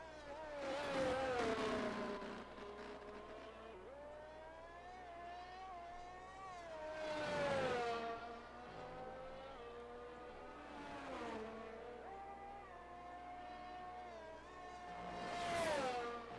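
F1 race car on a flying lap at the virtual Belgian Grand Prix in the F1 22 video game, its engine revving high through the gears with repeated downshift sweeps and rising pulls, heard steadily from onboard.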